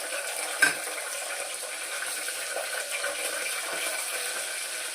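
Tomatoes go into a pan of frying pulao: a soft clunk near the start, then a steady, fairly quiet hissing sizzle that continues alone.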